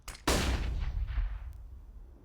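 Gunfire in the Counter-Strike map Overpass during an ESL Challenger League match: a sharp, loud burst of shots that rings out and slowly decays, followed by a softer crack later on, with no voices.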